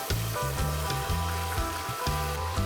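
Ground masala paste frying in a pan for paneer biryani, giving a close, steady sizzle with soft bubbling pops and occasional stirring throughout.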